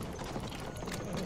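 Horse hooves clip-clopping in the video game Battlefield 1, a quick continuous clatter of hoofbeats mixed into busy, noisy battlefield sound.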